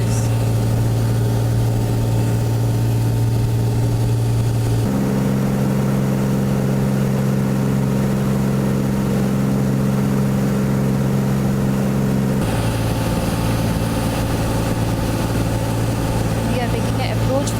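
Light aircraft piston engine running steadily at 2300 RPM on approach for landing, a loud continuous drone with strong harmonic tones that shift pitch slightly partway through, heard from inside the cockpit under intercom chatter.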